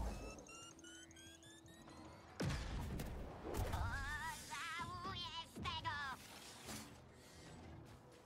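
Blaster shots in Star Wars Jedi Survivor crack out after a quiet opening, a burst of sharp reports and mechanical clatter followed by warbling energy tones, loud and close.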